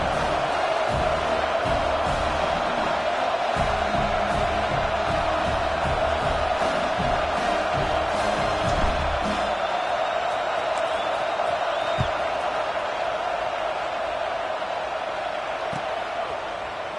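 Broadband roar of a video game football stadium crowd, steady and loud throughout, a sustained murmuring din with no distinct cheer peaks, easing slightly in the last seconds.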